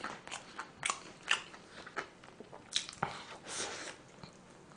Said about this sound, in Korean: 늘어나지 않는 모짜렐라 먹어.